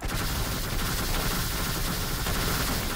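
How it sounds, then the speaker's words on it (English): A grenade launcher fires in the sandbox video game Teardown, heard as a dense, continuous roar of overlapping blasts and rumbling that stays loud and unbroken throughout, with no voices. "Oh my god! Grenade launcher."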